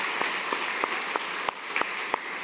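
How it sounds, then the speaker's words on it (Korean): A church congregation applauds during a Sunday worship service, making a steady wash of many hands with sharper individual claps poking out at a regular beat. "우리 하나님께 영광의 박수"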